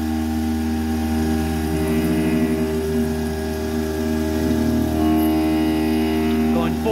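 A Langmuir MR-1 CNC mill slots 8670M carbon alloy steel at high spindle speed, giving a steady loud motor hum and whine with a grinding cutting tone running throughout, and no talking.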